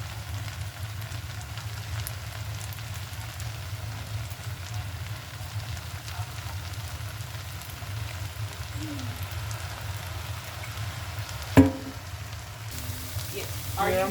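Shrimp fried rice sizzling in a pan after Chinese sauce goes in, a steady low crackling hiss that runs continuously, with one sharp clink near the end and no talk.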